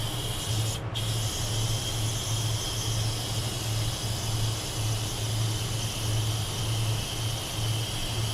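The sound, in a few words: spray painting a model truck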